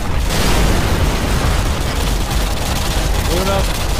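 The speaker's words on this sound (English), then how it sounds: "Man, it's taking heavy fire." Heavy gunfire rattles nonstop in Call of Duty: Modern Warfare 2, a loud, dense wash of shots and blasts in an urban Brazil firefight, with voices talking beneath it.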